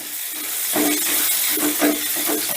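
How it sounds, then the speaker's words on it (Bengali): Grated ginger sizzling in hot oil as it is stirred in a pan, a steady close hiss with several soft scraping stirs and bubbling pops. "এবার আদাটাকে একটু নাড়াচাড়া করে নেব।"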